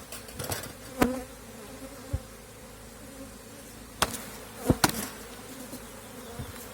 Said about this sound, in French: pour le secouer, il va falloir que je donne un coup sec sur le cadre